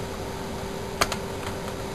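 Light typing on a computer keyboard next to an 8051 prototype board, entering text into external RAM. A few soft key clicks sit over a steady electronic hum, with one clearer pair of clicks near the middle.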